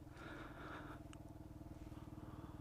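A Kawasaki KLR650 single-cylinder motorcycle idles or rolls past nearby, its low pulsing thump steady and fairly quiet, with a couple of faint clicks and no talk.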